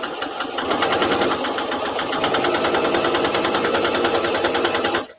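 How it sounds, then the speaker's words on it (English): A sewing machine stitches a fabric placemat in a fast, steady, loud needle rattle that runs unbroken for about five seconds and then stops abruptly. "My machine should be pulling the fabric back."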